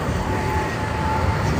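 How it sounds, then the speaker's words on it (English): A tram passes along Bahnhofstrasse in Zurich, a steady, loud broadband rumble of wheels and street noise lasting a brief moment. "Here is a tram that goes from Bahnhofstrasse"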